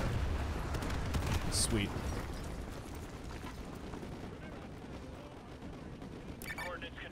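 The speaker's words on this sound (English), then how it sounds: "Fire mission received. Artillery inbound." An artillery strike in Modern Warfare 2 Campaign Remastered: a few heavy, rumbling impacts land near the start and again near the end over a continuous low battlefield roar, with a brief spoken word in between.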